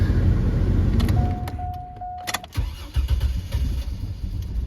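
A running car engine is switched off: a steady low idle rumble, a short electronic tone and a few clicks of the key, then the drone drops away before the rumble picks up again, all close by.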